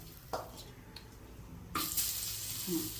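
Bitter gourd slices going one by one into smoking hot oil in a pan: a quiet background hiss, then a sudden loud sizzle that keeps crackling steadily to the end.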